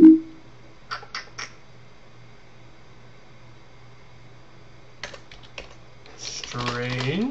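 Computer keyboard typing while entering EIGRP routing commands for a DMVPN network setup: a few isolated keystrokes early, a long quiet gap, then quick clusters of close clicks building into denser typing at the end, where a voice briefly joins.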